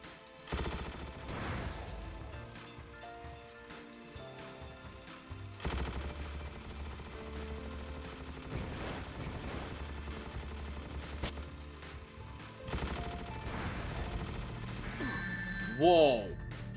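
Gunfire from a gun in the Shadow the Hedgehog video game, steady rapid bursts of shots over game music and effects, fairly loud and continuous with short breaks.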